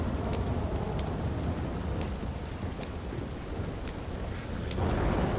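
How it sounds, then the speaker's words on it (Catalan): Deep rolling thunder from a lightning strike in Red Dead Redemption 2, a steady broad rumble under rain-like hiss that swells louder near the end, with no voices. "Sí, el llamp, és veritat. Espectacular."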